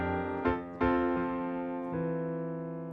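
A solo piano plays the next bar of a song. A few struck notes and chords ring close and sustain, with no voice over them.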